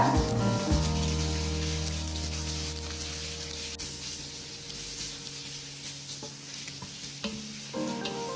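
Steady sizzling of onions frying in oil in a pan for millet sambar rice, with occasional stirring scrapes and clinks over a constant low hum.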